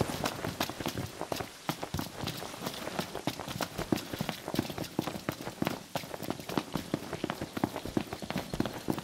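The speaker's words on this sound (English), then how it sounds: "Rain." Rain falling steadily in the video game Final Fantasy 15, a dense patter of close, irregular drops and splashes that continues throughout without pause.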